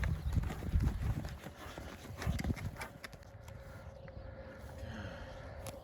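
Horse hooves clip-clop steadily on a mare's first ride under saddle during training, a close, rhythmic walking beat, louder in the opening seconds and then softer, with no talking.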